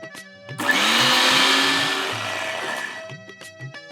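A blender whirs loudly for about two and a half seconds, grinding a thick green chutney, then winds down and stops, with brief clatter on either side.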